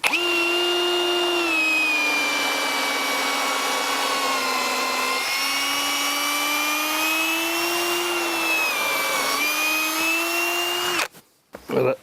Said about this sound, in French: je vais d'abord faire un pré-trou avec une mèche à bois